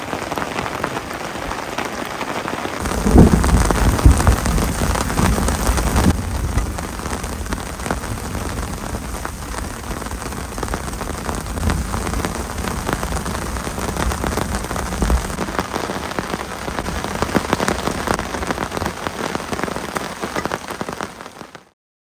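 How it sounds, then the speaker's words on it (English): Torrential rain drums steadily on a tent during a wild-camping thunderstorm, a dense, close, continuous roar that swells louder for a few seconds near the start, with low thunder rumbling beneath it. "Thunder and lightning cracking all the way around me. The rain absolutely relentless."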